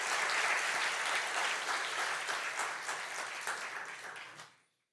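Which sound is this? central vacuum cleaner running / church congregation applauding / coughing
church congregation applauding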